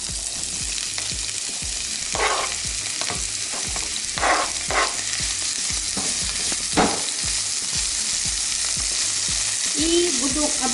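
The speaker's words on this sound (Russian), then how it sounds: "И буду обжаривать лук" Onion sizzles and crackles in hot sunflower oil in a pan, a continuous dense frying hiss with occasional stirring scrapes, close and steady.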